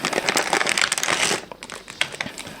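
A zip-lock plastic bag holding a camera battery adapter kit is handled up close, giving a sharp crinkling and rustling that is busy for the first half and then thins into a few scattered crackles.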